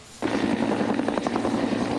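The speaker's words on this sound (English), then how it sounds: "A helicopter lifts off from Mount Washington Alpine Resort." A helicopter lifting off at Mount Washington Alpine Resort, its rotor thumping loudly and steadily, its engine roar beginning abruptly and holding close and strong throughout.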